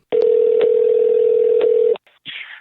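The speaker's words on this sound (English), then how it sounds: "let's get AUBRY on the phone" A telephone dial tone hums steadily for about two seconds, cut by a couple of brief dialing blips, then breaks off and gives way to a short burst of line noise as the call goes through.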